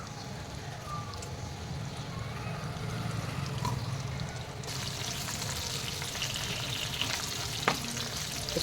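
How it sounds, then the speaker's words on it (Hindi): Cauliflower florets hit hot oil for a vegetable korma, and a low background sizzle jumps into a loud, bright, continuous hiss and spatter that carries on steadily. "ये देखिए मैंने तेल गरम करने रख दिया था। अब इसमें हम ये फ्लावर डाल देंगे"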